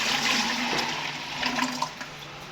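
Water, 3.5 liters, poured into a container for homemade dishwashing liquid, a strong continuous rushing splash, close and heard on its own.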